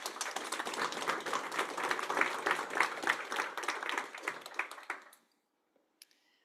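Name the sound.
applause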